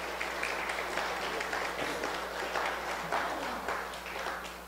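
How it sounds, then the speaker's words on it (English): A church congregation claps hands in praise during a sermon, steady dense applause from many people filling the room at moderate volume, sustained throughout before slowly easing. "Let's give God a hand clap of praise for that in there."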